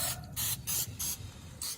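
Cooking spray aimed at cooking utensils lets out five short, loud aerosol hisses in an uneven rhythm, close by and with no talk over them.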